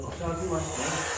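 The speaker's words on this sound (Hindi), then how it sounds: "फुर्तीला सांप होता है। इसकी खतरनाक आवाज़ आप सुन सकते हो।" An angry, agitated snake hisses continuously at close range, a steady broadband rush running the whole time over low room noise.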